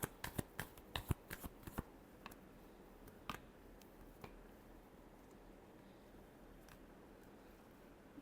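Tarot cards are shuffled up close in a quick run of crisp riffling snaps for about two seconds, then a few isolated taps and flicks over a quiet room background.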